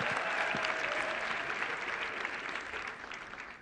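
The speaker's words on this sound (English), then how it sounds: "Let's give another hand clap for our chief guest" An audience at a university graduation ceremony applauds the chief guest, a dense burst of clapping that starts loud and slowly fades over a few seconds.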